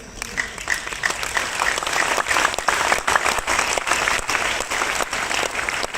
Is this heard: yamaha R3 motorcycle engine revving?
no